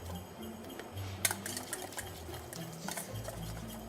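A whisk beats beurre manié into stock for gravy, with quick, fairly even ticking scrapes against the pot that run throughout at moderate loudness, close up.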